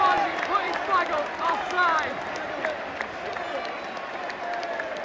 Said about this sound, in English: puts his flag up and the Southstead crowd goes wild